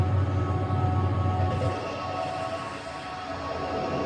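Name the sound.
cast iron chip trapped between workpiece and steady on CNC lathe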